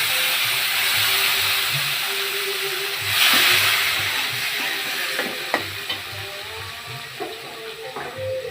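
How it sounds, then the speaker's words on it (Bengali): Dried red chillies frying in a pan with a steady, close sizzle, punctuated by a few sharp stirring clicks and pops against the metal. "মরিচগুলো এভাবে ভাজে নিতে হবে।"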